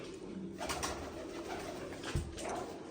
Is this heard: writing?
no